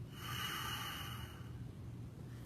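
A single slow, steady exhale through the nose or mouth during seated mindfulness meditation, soft and close, a breathy hiss that fades out after about a second and a half with no talking.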